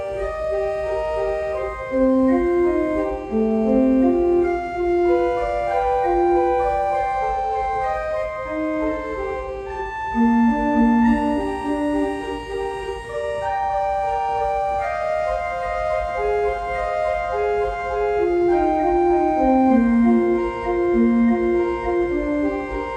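A pipe organ plays a flowing accompaniment from Duruflé's Requiem, sustained, overlapping notes that weave up and down steadily, alone with no voices.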